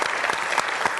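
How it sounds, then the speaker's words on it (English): Brief, even applause from a conference audience at IBM Think 2019, many hands clapping at once in a continuous close patter that stays at one steady level throughout. "let me ask a round of applause for Laura and Rahul again"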